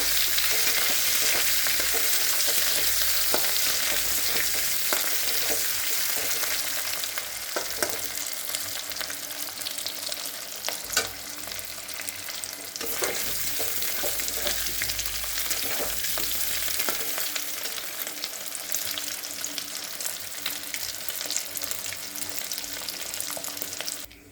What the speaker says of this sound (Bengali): ডিম ভাজা হয়ে গেছে, এখন আলুগুলো ভেজে নিই।